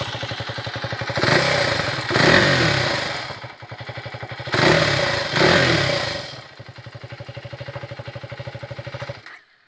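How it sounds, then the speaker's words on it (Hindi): A KTM Adventure 390 motorcycle with an underbelly exhaust thrums at a steady, bassy, boomy idle. It is blipped twice into loud revs that rise and fall back to idle, then cuts off at the end. "सो एग्जॉस्ट नोट जो है काफ़ी थोड़ा सा बेसी बूमी टाइप का है। ये अंडरबेली एग्जॉस्ट है।"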